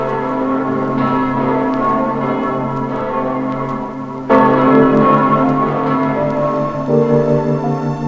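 A large church bell tolls in a folk-tale setting, its rich, sustained harmonic ring swelling loud and clear, with a fresh, stronger strike about halfway through and no talking.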